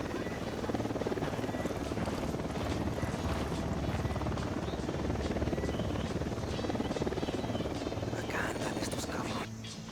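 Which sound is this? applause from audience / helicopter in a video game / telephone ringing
helicopter in a video game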